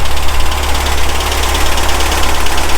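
A VW Baja Bug air-cooled engine idling at about 1,000 RPM, loud and close, with a steady, slightly lumpy rumble and no talk.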